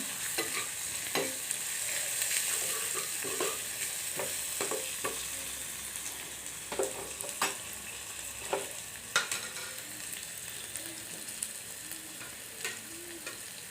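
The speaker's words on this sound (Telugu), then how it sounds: "ఇప్పుడు అల్లం వెల్లుల్లి పేస్ట్ వేస్తున్నాను" Ginger garlic paste frying in a pan, a steady soft sizzle with repeated scraping and clinking strokes of a spoon stirring it, close and moderately loud, no talking.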